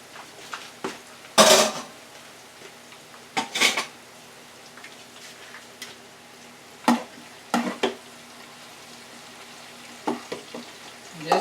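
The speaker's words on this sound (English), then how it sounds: "Just moving the plantains around." Plantains frying in hot oil for a homemade fry-up, a low sizzle with intermittent scraping and clattering bursts as the pieces are stirred and moved around, close and without talk.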